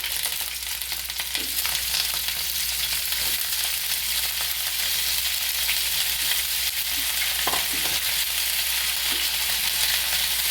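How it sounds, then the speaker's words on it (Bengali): Drained cauliflower pieces frying in hot oil, producing a steady, hissing sizzle that stays even and fairly loud throughout, with a few faint utensil taps. "এবার জল ঝরিয়ে রাখা ফুলকপিটা দিয়ে দিচ্ছি"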